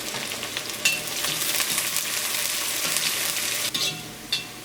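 Shallots and garlic sizzle with cumin in a hot pan, a steady close frying hiss with a few brief stirring scrapes, no talking.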